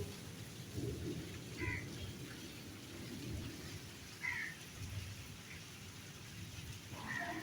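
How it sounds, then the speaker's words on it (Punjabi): Steady rain hisses throughout while low thunder rumbles in the distance, with a few brief louder bursts rising above the downpour. "ਇਹ ਜਿਹੜੀ ਬਾਰਿਸ਼ ਆ"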